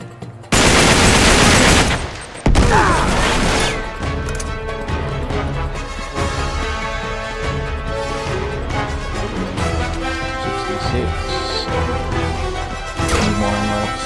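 Gunfire in the video game Uncharted 3: two loud close bursts of rapid shots, then continuous lower-level combat noise with scattered impacts and the game's background sound throughout.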